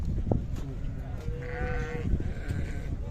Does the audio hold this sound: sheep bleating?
yes